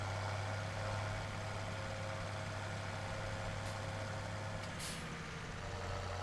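Heavy truck from Black Sheep Modding driving in Farming Simulator 17, a steady low engine drone with a brief air-brake hiss near the end, no talking.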